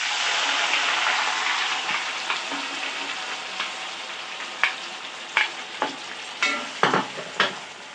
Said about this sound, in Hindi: अब हम इसमें डालेंगे प्याज और मिर्ची।